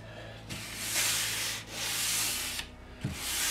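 Sanding block rubbed back and forth over a wooden cross-cut sled, three long steady scraping strokes with brief pauses between them, close and alone.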